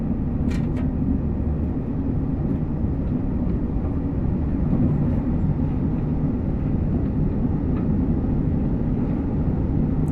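Interior of a BR Class 807 Evero electric train running from London Euston to Crewe along the West Coast Main Line Trent Valley: an unbroken broadband rumble with a few faint clicks and knocks.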